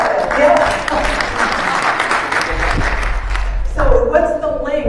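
Audience applause at an energy efficiency sales seminar, a steady wash of clapping lasting several seconds, with a voice starting to speak over it near the end.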